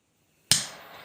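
A lighter is struck once after a silent pause, giving a single sharp close click followed by a brief fading hiss.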